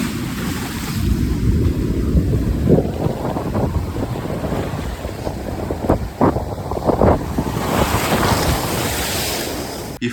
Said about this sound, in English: the sound of waves hitting the wood that was actually scary